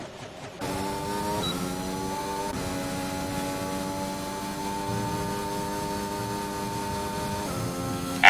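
Racing cars driving past on a Mexico circuit in a racing video game, steady engine drone with rising and falling tones as cars come through, ending in a brief louder burst.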